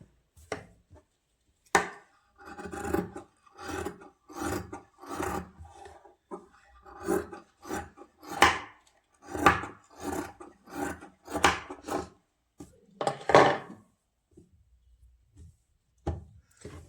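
Scissors cut excess cloth on both sides of a pajama during home stitching, a series of crisp rasping snips in irregular bursts with short pauses between, close and fairly quiet, no talking.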